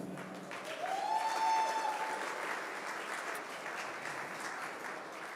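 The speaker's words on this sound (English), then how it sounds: "Give a round of applause," An audience at the 2022 Hardanger Open armwrestling event applauds armwrestler Sandra, a steady spread of clapping held at moderate level, with a brief whistle-like tone near the start.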